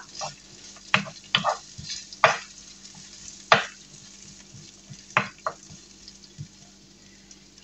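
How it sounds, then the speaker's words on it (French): Bell peppers frying in olive oil for a Basque-style chicken, giving a quiet low sizzle broken by a few sharp clicks and scrapes of stirring at uneven intervals. "je fais revenir les poivrons dans l'huile d'olive"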